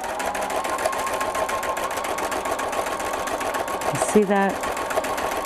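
An embroidery machine sews an overlapping-oval fill stitch in soft green Star Thread, a steady rapid needle chatter running throughout, close and even, with a man's brief remark near the end.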